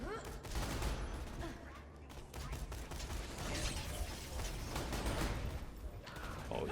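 Striker shotgun fire in Borderlands 2 unfolds as dense repeated blasts and clattering mechanical game effects, steady and busy throughout, mixed at moderate level.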